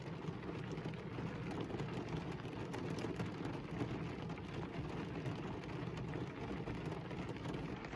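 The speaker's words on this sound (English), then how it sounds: "I'm listening to it rain." Steady rain patters and hisses without pause, heard from inside a car, with no voices.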